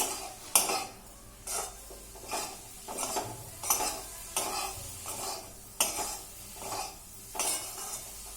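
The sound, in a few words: stirring bitter gourd curry with cumin in a pan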